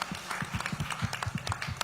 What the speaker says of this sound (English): give yourselves a huge round of applause as a token of self-appreciation